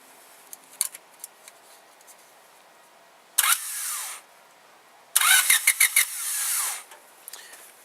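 A motorcycle's electric starter is energized through a test light instead of the clutch-safety circuit and cranks the engine in two bursts, a short whirring grind and then a longer one, loud and close with quiet pauses around them.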